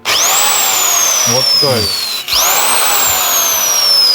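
Electric drill spinning a homemade Soviet-style device at a loud, steady whine that rises after a restart; a brief pause midway, with someone talking over it.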